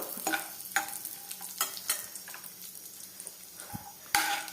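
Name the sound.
chopped cashew nuts roasting in a pan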